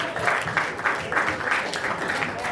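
Audience applause fills a comedy show at a Los Angeles theater, a steady wash of many hands clapping for a couple of seconds with no voices over it.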